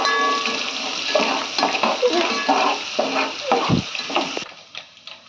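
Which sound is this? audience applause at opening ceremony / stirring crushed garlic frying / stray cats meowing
stirring crushed garlic frying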